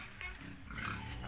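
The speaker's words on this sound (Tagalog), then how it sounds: "Ang baboy na ere." A pig on a Filipino farm that survived African swine fever gives low, rumbling grunts, close and continuous for a brief moment with no talking.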